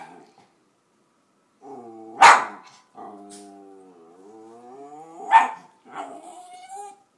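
A terrier indoors gives two sharp barks between stretches of whining and low growling, close by, excited over a toy otter lying on pillows.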